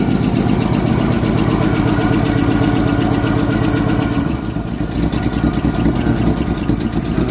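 A 1964 Holden EH ute engine idles steadily at close range, a dense even rumble with a fast regular pulse that dips briefly before settling back into the same loud, continuous run.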